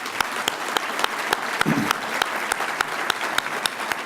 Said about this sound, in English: Let's give the judge another round of applause, please.